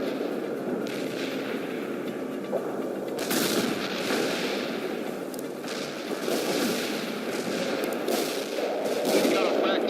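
Dense artillery strikes and rattling gunfire from a World in Conflict battle, a continuous loud barrage with sharp bursts and booms layered over each other, with faint radio voices in the mix.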